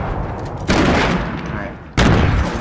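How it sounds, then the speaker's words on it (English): Grenades thrown out a window exploding in Fortnite Battle Royale, two sharp loud blasts, each followed by a decaying rumble, close by. "Let's throw them out the window."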